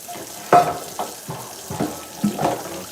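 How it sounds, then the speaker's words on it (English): Kitchen tap water running while a couple of dishes are washed in the sink, a moderate splashing stream broken by several clattering bursts as the dishes are handled, with no talk. "Excuse the water. I'm trying to wash a couple dishes."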